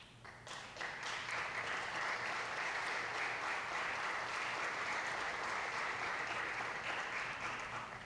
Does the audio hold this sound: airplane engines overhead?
no